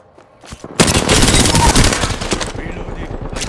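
Enemy automatic gunfire in the Apex Legends shooter game, a few scattered shots building into a loud, rapid burst that trails off into continued rattling, close and intense, with a voice briefly underneath.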